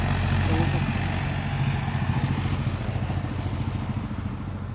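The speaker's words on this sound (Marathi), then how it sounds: "ट्रॅक्टर आहे ट्रॅक्टर मसाचा ट्रॅक्टर" A tractor engine chugs steadily nearby during wheat harvesting, a loud low rumbling idle with rhythmic knocking, and faint voices mixed in.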